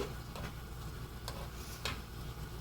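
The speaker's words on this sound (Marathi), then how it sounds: "आता ह्याला मी असं छान लिंबाचा रस घालून ढवळत आहे" Prawn pickle with lemon juice is stirred, faint and quiet: a low background hum with a few sparse, soft clicks and scrapes of a spoon against the container, spaced irregularly.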